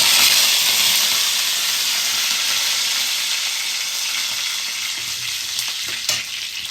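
Mustard seeds and cumin sizzle in hot oil, a loud continuous frying hiss that fades slightly over time, with a few faint pops and a small clatter near the end.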